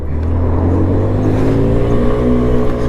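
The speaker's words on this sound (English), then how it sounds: "there is a lot of traffic about" Heavy road traffic rolls past at rush hour, a loud, continuous blend of car engines humming and droning without pause, with no talking.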